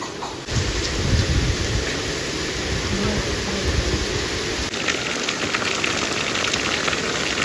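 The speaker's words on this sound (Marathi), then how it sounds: "वाटतंय छान आता की आलाय मस्त पाऊस" Heavy rain pours down in a dense, steady hiss that barely changes from start to finish, with no voices.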